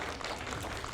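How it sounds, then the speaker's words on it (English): Faint, steady patter of audience applause at a commemoration event for a Brazilian arts project at Stanley Community College, a distant wash of many hands clapping without a break. "join me in giving them a round of applause"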